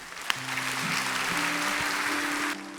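Church congregation clapping during a Sunday worship service as a member is welcomed forward, an even wash of applause with a low sustained tone underneath, ending abruptly.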